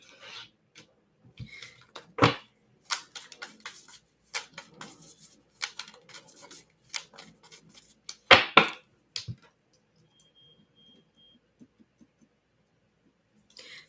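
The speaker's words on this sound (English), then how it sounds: "I am going to shuffle here." A tarot deck is shuffled by hand in close, dry bursts of rubbing and riffling card noise. Sharper flurries come in irregular bunches, then fall to near silence.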